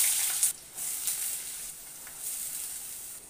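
Onion drops into hot oil in a kadhai, giving a bright, hissing sizzle that flares right after the addition and then settles into an even, close crackle with no voices.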